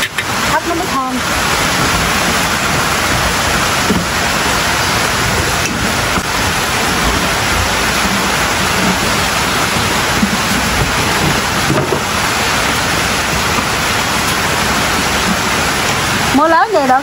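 Heavy rain pouring steadily outdoors in rural Vietnam, a dense, loud, unbroken hiss and patter lasting the whole stretch, with faint voices beneath it near the start and end.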